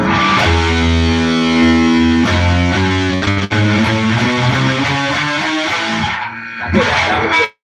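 Distorted electric guitar plays a sustained chord, then a twelve-tone row played as a scale, single notes stepping up one after another, loud and close, ending with a brief ringing chord.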